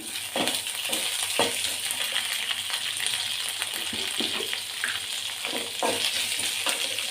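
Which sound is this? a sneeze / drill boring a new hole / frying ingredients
frying ingredients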